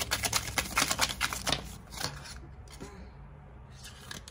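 Heavy-duty tarot cards are shuffled and drawn: rapid riffling flutters at close range give way to a few softer card slaps and rustles, with a voice briefly speaking.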